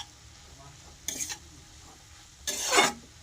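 Vegetable chop filling stirred in a pan over a faint background hiss, with two short bursts of scraping and sizzling, the second louder and longer.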